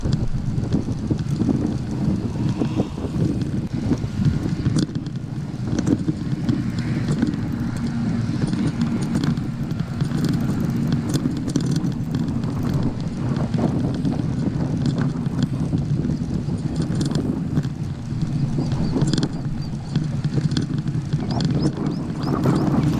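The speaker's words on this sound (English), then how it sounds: "So the wind's kind of light here." Steady wind noise buffets the microphone outdoors during a group bicycle ride in light, sheltered breeze, a continuous close rumble with faint mechanical clicks underneath and no talking.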